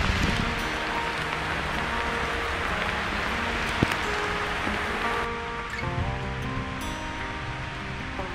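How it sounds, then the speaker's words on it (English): Rain falls on a cycling tour across Indiana, a steady broadband hiss and patter that stays close and fairly loud, with faint tonal hums beneath and no speech. "It just will not quit raining."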